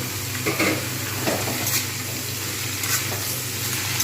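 Kohlrabi pieces tossed in among frying potatoes in a pan give a close, steady sizzle with light scraping and stirring on top.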